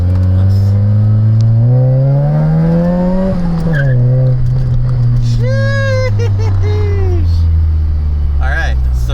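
A supercharged single-cam D16 engine in a Honda EK Civic revs up and back down loudly and close by, with a rising and falling tone. Speech can be heard intermittently alongside it.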